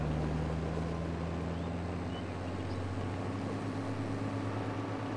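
A 500-horsepower tractor in Farming Simulator 22 laboring up a hill in Korpi, Finland, giving a steady low engine drone with a constant hum and no talking.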